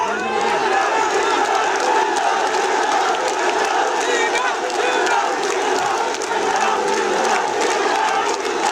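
A large crowd at a political rally chants and shouts slogans together, a dense continuous roar of many voices held at steady loudness throughout, with some cheering mixed in.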